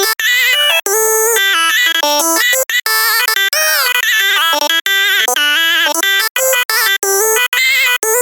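Vocal melody processed through a Vocal Transformer, pitched up an octave with raised formant, producing a squeaky, chipmunk-like sung line in quick bursts, loud and close, with brief gaps between phrases.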